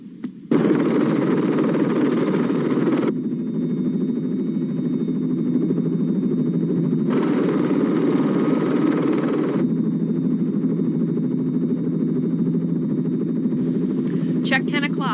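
Aircraft engine flying low, a loud steady droning buzz that runs throughout, its intensity stepping up and down in long sections, with voices talking over it.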